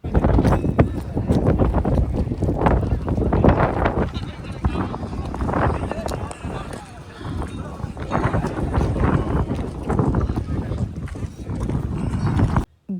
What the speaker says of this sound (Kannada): ವಿಂಡ್ ಸೌಂಡ್ ಹೆಂಗಿದೆ ನೋಡಿ